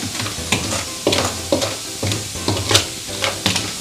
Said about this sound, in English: slowly add the liquid nitrogen